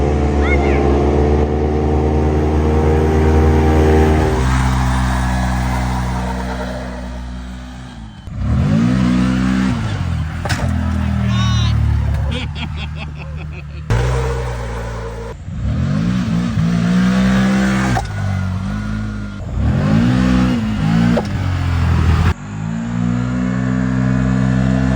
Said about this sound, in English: Our clutch kit makes this thing nice and smooth with these big tires and plenty of power to the ground.